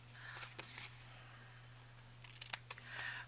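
Paper tag pieces snipped with scissors, a few quick crisp cuts in two short bursts, close and fairly quiet, with a steady low hum underneath.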